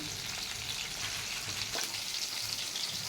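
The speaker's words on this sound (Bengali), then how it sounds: "মাছ ভাজা হচ্ছে এখন।" Fish sizzles in a wok of hot oil with a steady, crackling hiss, fairly quiet and close, with a brief sharper pop partway through and no voices.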